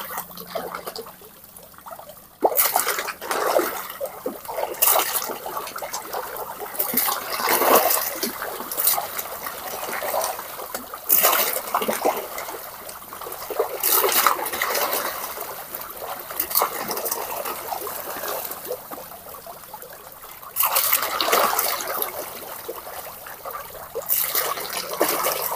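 Catfish splash and slurp as they feed on chicken intestines mixed with rice in a netted pond, a steady wet churning and trickling of water with bursts of thrashing, close and fairly loud, no voices.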